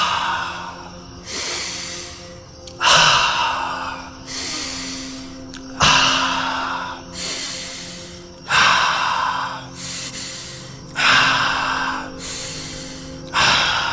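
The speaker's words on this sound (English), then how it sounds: "the belly kind of tightens to bring it in through the nose, and the belly tightens to exhale with an ah" A person breathes deeply in a repeating cycle, drawing air in through the nose with the belly tightening and then exhaling in an audible breathy ah, about eight close, loud breaths evenly spaced.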